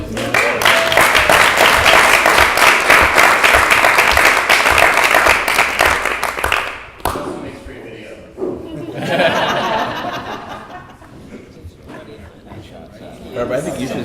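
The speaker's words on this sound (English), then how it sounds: "Can we give a round of applause, please?" A burst of clapping from a crowd at an improv event fills the first half, then fades into quieter chatter and a few voices with scattered laughter.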